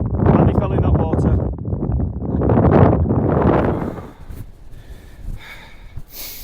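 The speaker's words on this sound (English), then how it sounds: "It's blowing a gale again." Strong wind gusts buffet the microphone on an exposed fell top in the northern central fells, heavy roaring bursts that ease into lighter, patchy blowing.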